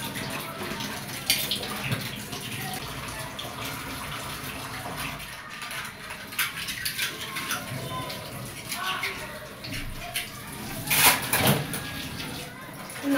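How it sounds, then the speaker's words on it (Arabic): Running tap water splashes over dishes in an Egyptian kitchen sink, a steady hiss with occasional clinks and clatter, while someone talks over it. "بغسل بس الاطباق دي الاول"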